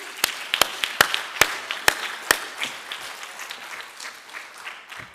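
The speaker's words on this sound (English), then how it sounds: "As a result for that, I would like a round of applause" A round of applause breaks out at a city water star rating certification ceremony in Cape Town, starting with a few loud, sharp individual claps and then swelling into steady, dense clapping from the audience.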